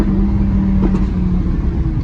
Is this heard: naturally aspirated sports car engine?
yes